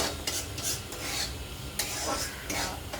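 Semolina roasting in a pan for laddus, stirred with a steady scraping and rasping, grains shifting against the metal in soft irregular strokes, close and fairly quiet with no talk.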